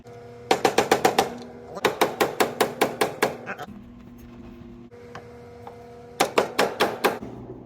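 Quick, light metallic taps from a hammer on a pin in a plastic bowling pinsetter gear come in three rapid bursts of about half a dozen strikes each, separated by short pauses.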